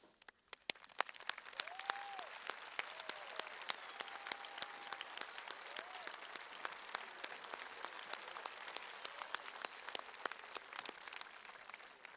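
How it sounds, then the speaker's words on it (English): Sustained applause from a high school graduation audience honoring armed services members, a steady wash of many hands clapping in a large hall with a few faint voices over it, lasting throughout. "please stand if you're able in helping me to give a round of applause to those who have served"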